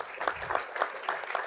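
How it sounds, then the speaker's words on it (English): Audience at a medical conference on narcolepsy treatment applauds, with steady, moderately quiet clapping from a crowd across the room. "give yourself a nice round of applause"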